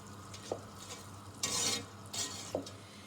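A spoon stirs browning caramel in a pan for nougatine, with a few scraping strokes and soft sizzling bursts over a quiet kitchen background.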